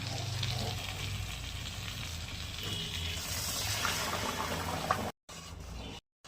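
Tomato paste and spices for a potato and pointed gourd curry sauté in a pan with a steady, soft, close sizzle that cuts out in short gaps near the end.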